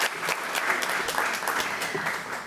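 Audience applause at an elementary school award ceremony during a policy committee meeting, a steady wash of many hands clapping at even loudness throughout, with no one speaking over it.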